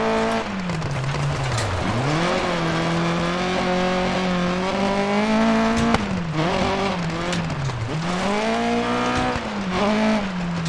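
Opel Kadett rally car in Dirt Rally 2.0 racing on asphalt, its engine droning steadily and loudly close by, pitch rising and falling through gear changes with brief dips on lift-off, plus occasional tire scrubs.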